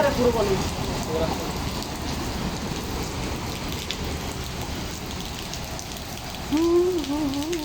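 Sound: heavy rain falling

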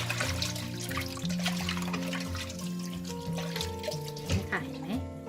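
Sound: rinsing food in water until the water runs clear

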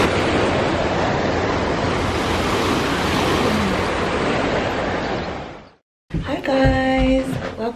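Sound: ocean waves breaking on the shore

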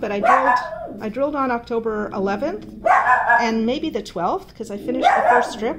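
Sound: dog barking

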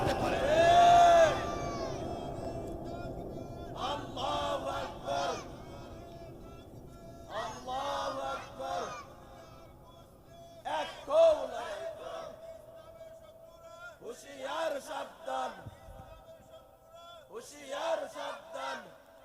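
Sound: crowd chanting takbir Allahu Akbar

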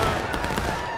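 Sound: rifle volley firing in the video game War of Rights

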